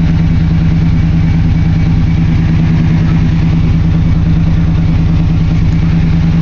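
A 1995 Chevy Silverado 1500 with a newly fitted engine idles after a cold December start, a loud, close, steady low rumble with an even pulsing rhythm that holds unchanged throughout, alone without voices.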